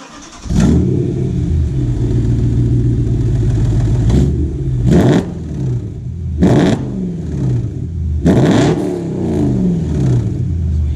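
BMW E92 M3 V8 with a custom exhaust firing up, then idling with a deep burbling drone broken by four loud, sharp throttle blips, each snapping up and settling back, close and without talk.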